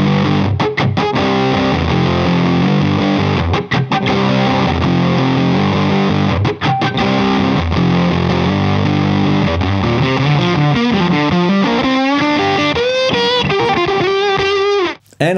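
Electric guitar through a fuzz pedal, playing root notes and fifths as thick, heavily distorted, sustained tones with short gaps between phrases, loud and close, ending with a bending, sliding line.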